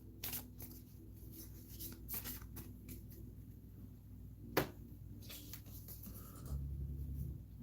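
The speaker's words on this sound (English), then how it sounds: "we're gonna give a little shuffle here on camera" A deck of cards for the Horrified: Universal Monsters board game is shuffled, with quick riffling bursts and light papery taps close by, faint and interrupted by brief pauses.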